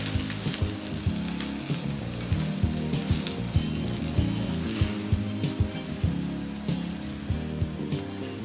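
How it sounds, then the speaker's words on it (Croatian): Vegetables for antipasti fry in a pan with a dense, continuous sizzle and crackle, loud and close, with no talking. "I pržimo poprilici još toliko."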